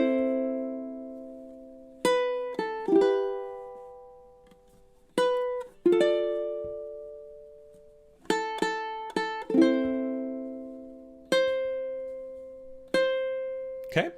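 Sparse plucked ukulele notes and chords picking out a few measures of O Holy Night with no filler notes, each pluck ringing and decaying cleanly into near-silence between strikes.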